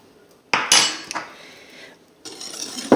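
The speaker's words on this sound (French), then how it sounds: "On remue." Sugar and vanilla sugar are stirred into a speculoos tiramisu mixture, heard as a few close, loud bursts of spoon scraping and clinking against a bowl, separated by short quiet gaps.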